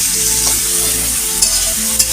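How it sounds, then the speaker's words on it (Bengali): Prawns and onion fry in a pan at home, a steady loud sizzle with occasional stirring scrapes, close and continuous with no talk. "তিনটে চিংড়ি দিয়ে পেঁয়াজ দিয়ে ভাজা করছে"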